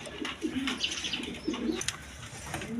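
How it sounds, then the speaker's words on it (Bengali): White Danish pigeons coo repeatedly in soft, low, rolling phrases, close by, over a steady background hum with a few faint chirps. "এখানে এক পেয়ার কবুতর আছে, 2 মডেলের কবুতর"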